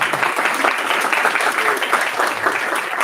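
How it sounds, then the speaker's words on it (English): An audience at a student intern symposium applauds the intern mentors, giving a steady, dense wash of clapping for about three seconds at even loudness with no pause. "And can we get a round of applause for them?"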